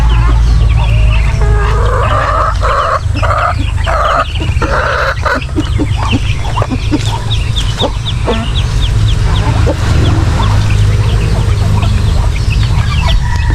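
Two duckling chicks peep in short clustered chirps over a loud, steady low rumble of background noise, with sparser calls continuing later.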